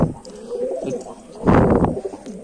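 A pigeon coos on a rooftop loft with fancy domestic pigeons, a low throaty rolling coo swelling loudly near the middle, close up amid faint background rustle and no talk.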